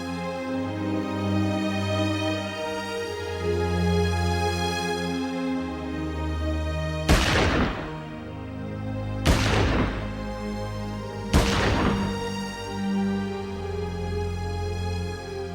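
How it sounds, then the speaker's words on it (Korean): Three loud gunshot volleys of a funeral salute crack out about two seconds apart, each sharp and echoing over a quiet, sustained musical backdrop. "그의 죽음에 바쳐진 세 발의 총소리."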